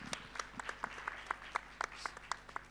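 Audience clapping at a tech innovation conference, a faint, sparse patter of individual claps at irregular intervals, quiet and thinning out.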